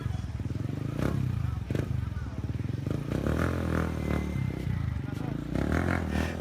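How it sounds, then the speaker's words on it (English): A small motorbike carrying a whole family and their goods on a built-up platform idles and putters with a rattling engine, nearby and steady, while someone talks over it. "check this motorcycle out and what they got on this family's"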